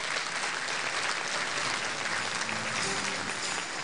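A graduation ceremony crowd at a Turkish university science faculty applauds as a graduate is invited to the stage: dense, continuous clapping from many people, evenly sustained and fairly distant throughout.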